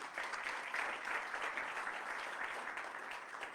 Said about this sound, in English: Maybe give them a round of applause for the food.